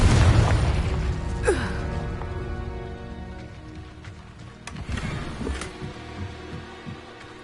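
Spell blast of the Confringo fire curse in Hogwarts Legacy: a loud boom at the start decaying into crackling debris, with further sharp bursts and impacts around the middle, no voices.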